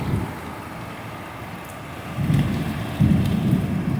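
Heavy rain pours steadily during a tropical storm, with two low thunder rumbles rolling in over the downpour in its second half, loud and close, no voices.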